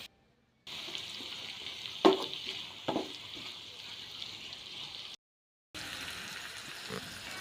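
Tomatoes sizzling in a frying pan as they sauté, a steady low frying hiss with a couple of brief stirring knocks, interrupted by short silent gaps.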